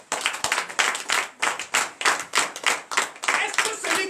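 A church congregation at a Sunday service in Benin claps in rhythmic unison, sharp, regular bursts of clapping at a steady beat, fairly close and loud.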